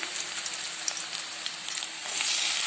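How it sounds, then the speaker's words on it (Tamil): Tomatoes tip into chopped onions already frying in a pan for a Tamil drumstick kara kuzhambu, giving a steady close sizzle that swells louder near the end, with no voices. "இப்போ நான் தக்காளி அதோட கூட சேர்த்துட்றேன்"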